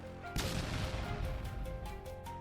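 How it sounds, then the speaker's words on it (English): An FPV drone strike detonates inside a structure sheltering a soldier in wartime, giving one loud sudden blast followed by a sustained heavy rumble and crackling debris for about two seconds. "The initial strike triggered a powerful explosion."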